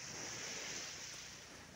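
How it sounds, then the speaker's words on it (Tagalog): Calm sea waves wash steadily onto a beach, heard as a soft, continuous hiss of surf mixed with light wind noise, with no voices present. "Kalmado ang dagat, no?"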